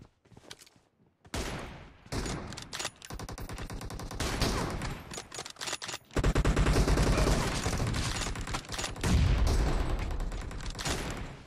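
PUBG gunfire, dense overlapping volleys of shots and automatic bursts that start after a brief quiet, grow louder partway through and keep rattling almost without a break.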